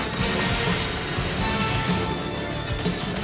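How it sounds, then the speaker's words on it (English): Glass shattering and crashing as a tractor smashes through a store front, a loud continuous clatter of breaking debris filling the whole moment with no voices. "Broke a bunch of glass."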